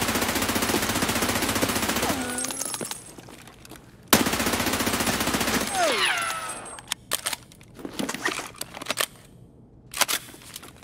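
Automatic gunfire in the video game Escape From Tarkov rattles in dense, loud bursts, broken by short gaps and followed by sparse single shots and clicks.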